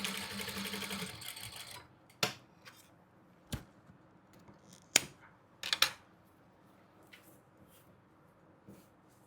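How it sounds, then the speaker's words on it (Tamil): A sewing machine runs steadily for about two seconds while stitching the lining of a blouse, then stops, leaving a few sharp clicks and handling taps near the mic. "இப்போ லைனிங்கில் வச்சு தைச்சிருக்கோம்."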